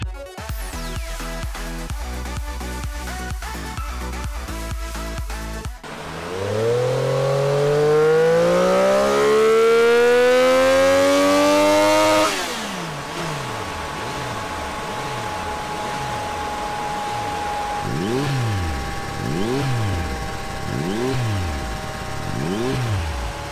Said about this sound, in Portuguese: Essa moto que a gente vai passar no dinamômetro agora tá então literalmente com tudo.